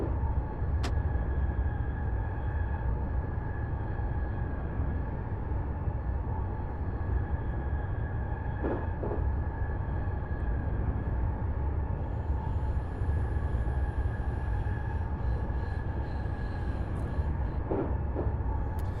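A Tokyo commuter train runs in Train Simulator Classic, a constant low rumbling drone with a steady tonal hum and a few faint clicks and higher tones, no talking.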